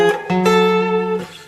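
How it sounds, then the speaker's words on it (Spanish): A guitar chord strummed with its third voiced an octave higher rings out in clear harmonic layers, struck twice in quick succession and then sustained, with a final decaying restrike near the end. "La tercera la toca una octava más arriba y suena así"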